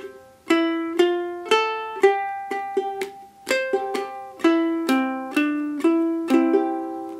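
A ukulele and a baritone ukulele play the bluegrass tune "Cripple Creek" together in a steady clawhammer rhythm, bright ringing notes over lower ones, clear and close with no talking.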